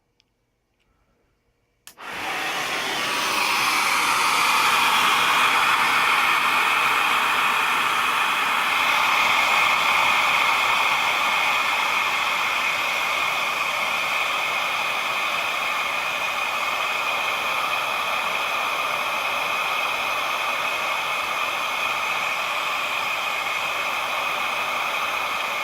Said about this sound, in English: There's a lot of suction pulling through there. I've got some sawdust here, so let's turn this on.